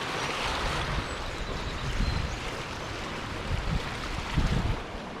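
Floodwater from Black Falls rushes where it meets the swollen Trout River near a bridge in northern Vermont, making a loud, continuous broadband roar with gusty surges and no voices.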